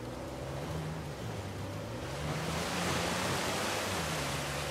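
A waterfall in Uncharted 4 rushes as a continuous broad roar, growing a little louder midway, with a low musical drone underneath.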